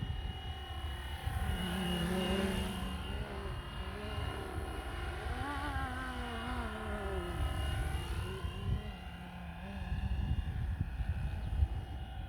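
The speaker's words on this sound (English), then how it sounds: "This heli flies just so beautifully." A Flywing Bell 206 RC helicopter flies steadily, its rotor and motor giving a continuous whirring drone with shifting pitch as it moves, moderately near and alone without talk.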